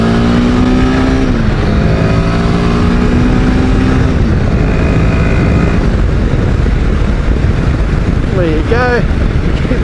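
A Royal Enfield Himalayan 450 motorcycle accelerates hard toward 100 km/h, its engine note climbing and dropping through gear changes, loud and close with steady wind roar.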